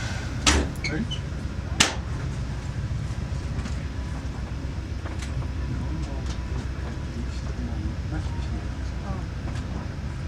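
A VIA Rail P42DC diesel locomotive at a station rumbles steadily with low engine drone, a couple of sharp clanks early on, and faint background voices.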